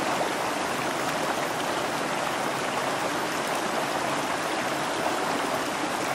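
Mountain stream in the Adirondacks rushing over rocks: a steady, close wash of flowing, splashing water that stays even throughout, with no voices.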